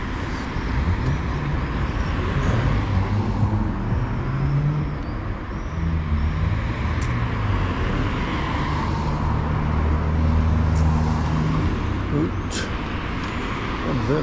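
Cars drive past on a road in Crimea in a continuous rumble of traffic, with engine drone and tire noise rising and falling as vehicles go by.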